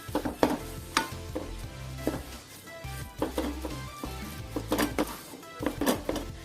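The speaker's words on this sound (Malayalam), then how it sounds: "നമുക്ക് നല്ല രീതിയിൽ ഒന്ന് ഇളക്കി കൊടുക്കാം." Potato masala filling for Kerala-style masala dosa is stirred in a pan: repeated close scrapes and knocks of a spoon against the metal over a low sizzle, in an uneven rhythm with no talking.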